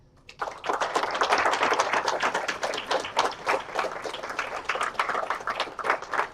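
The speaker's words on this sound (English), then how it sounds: "I ask you to please applaud for your loved ones here today." An audience at an LPN nursing graduation ceremony breaks into sustained, dense applause that starts abruptly and carries on steadily for several seconds, with no talking over it.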